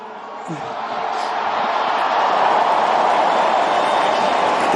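A vast crowd at the Vatican applauds newly elected Pope Leo XIV, a dense continuous roar that swells after a moment and holds, with a voice faintly over it.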